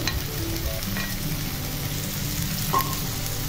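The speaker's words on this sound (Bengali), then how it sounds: "তো এখন আমি লাউয়ের খোসাগুলো দিয়ে দিচ্ছি।" Bottle gourd peels go into a pan of half-boiled potatoes, setting off a dense, steady hiss of frying oil, close and continuous, with faint clicks and no speech.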